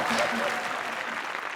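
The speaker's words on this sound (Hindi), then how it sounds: "इनके लिए जोरदार तालियां" A studio audience at a comedy show breaks into a short burst of dense clapping that fades slightly, with a voice speaking over it.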